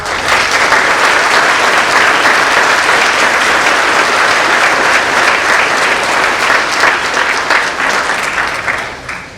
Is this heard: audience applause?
yes